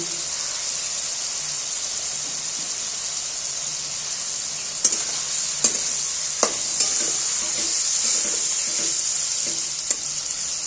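Kashmiri chilli powder added to a frying masala for a prawn and brinjal korma, giving a steady bright hiss of sizzling oil throughout, with a few light utensil clicks near the middle.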